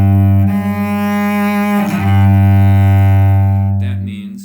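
A bowed string instrument holds one steady, loud pitch-check note for several seconds after a one-octave major scale in first position; the hand has drifted sharp, so the note sits slightly above true pitch.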